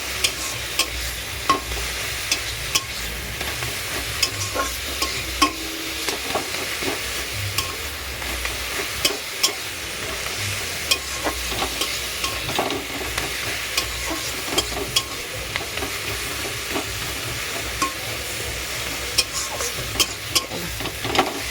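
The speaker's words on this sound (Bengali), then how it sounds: "আগে শাকটা ভেজে নিই" Leafy greens (shak) stir-fried in a pan in a home kitchen, a continuous soft sizzle broken by repeated scraping and clinking of the spatula stirring, close and steady with no talking.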